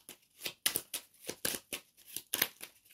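Oracle cards being shuffled by hand for a reading, a rhythmic series of papery riffles and slaps repeating about every half second, close and clear with no talking.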